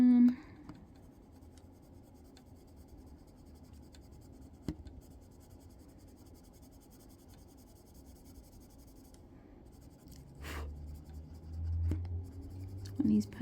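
Sharp colored pencils scratch steadily on paper during adult coloring, producing a continuous close, quiet rasping that swells toward the end, with brief speech at the start.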